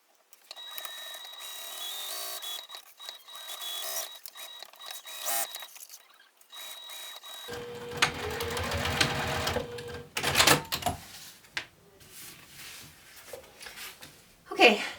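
Sewing machine stitching a quarter-inch seam around a tote bag pocket, a steady mechanical whir running in two stretches with a pause and shift in pitch between them, close and moderately loud, without voices.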